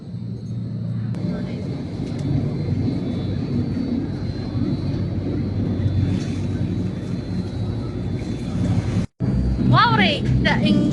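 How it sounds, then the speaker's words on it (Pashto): A tour boat's engine drones loud and steady as the vessel pulls away from the pier at a Beijing imperial garden lake, with wind buffeting the microphone, a brief dropout, then a voice talking over the engine. "واورئ د انجین اواز جګ دی"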